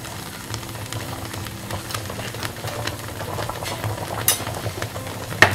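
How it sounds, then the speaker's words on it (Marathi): Malvani chicken curry boiling in a pot, with a steady low bubbling and soft popping at an even level, plus a few sharper clinks near the end. "आपल्या चिकनला छान उकळी आलेली आहे बघा"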